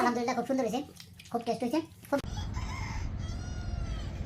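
Chickens at a market in Saudi Arabia cluck and squawk loudly after a voice, the birds continuing alone with busy, close calls.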